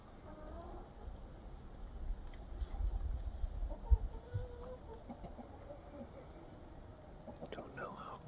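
Chickens cluck softly nearby in scattered low calls, with faint outdoor rumble and a quiet voice in the background.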